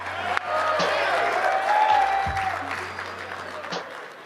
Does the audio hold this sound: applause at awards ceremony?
yes